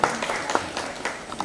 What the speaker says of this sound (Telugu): వాళ్ళు గట్టిగా ఒకసారి చప్పట్లు కొట్టాల్సిందిగా కోరుతున్నాను.